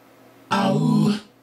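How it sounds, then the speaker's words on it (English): Bounced, stacked vocal harmonies play back as one short sung chord lasting under a second, full and clear, starting abruptly after silence and fading quickly. "So here's the harmonies that I've bounced"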